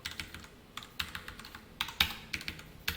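Close, steady typing on a computer keyboard while entering JavaScript and jQuery code, with bursts of crisp key clicks and a few sharper, louder strokes, and no talking.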